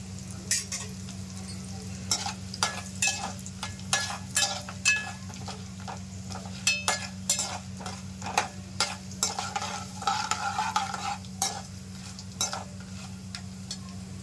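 A tempering of dried red chillies crackles in hot oil in a pan, with steady frying and many sharp pops and stirring clicks spread across the clip over a low hum, no talking.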